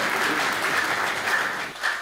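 Audience at a Hindi kavi sammelan poetry stage applauds after a comic bhajan, a dense, steady burst of clapping from many hands that carries loudly through the whole moment before easing slightly at the end.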